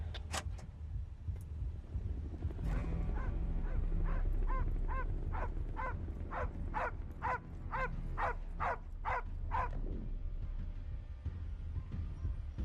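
A dog gives a run of rhythmic high yips and whimpering barks, about a dozen in a row, over a low vehicle rumble in the background.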